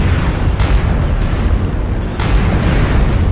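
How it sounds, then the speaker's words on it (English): A MechWarrior Online artillery strike detonates as a dense, loud, rumbling barrage, with two sharper blast onsets and continuous thunderous explosions filling the whole stretch. "Artillery strike activated."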